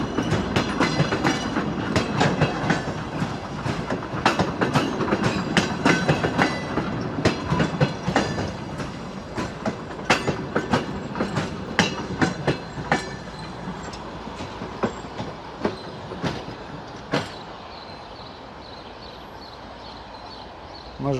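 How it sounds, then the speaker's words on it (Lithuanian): A yellow DR1 diesel train bound for Daugavpils rolls past close by, its wheels clacking in a rapid, irregular rhythm over rail joints before the noise thins and fades toward the end. "Atvažiuoja traukinys, kuris važiuos į Daugpilį. Geltonas dizeliukas"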